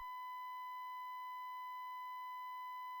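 A steady, pure 1 kHz sine tone produced from phase-shifted ultrasonic signals holds constant and alone for the whole stretch, with faint higher overtones.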